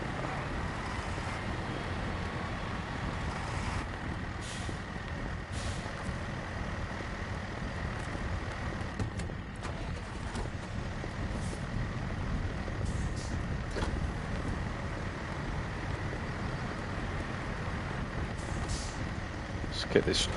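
A heavy truck maneuvering in SnowRunner gives a low, continuous engine rumble with a steady hum, while a person talks over it throughout.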